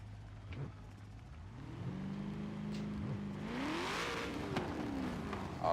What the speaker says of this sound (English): Drivers rev up so I know you're ready.